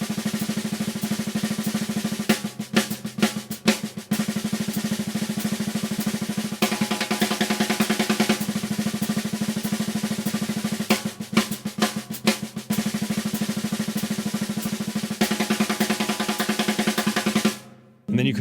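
Drum rudiments practised on a snare or pad, cycling through doubles, triplet groupings and flam accents as a continuous dense stream of fast, even strokes with shifting accent patterns, loud and close, ending abruptly with no talk over it.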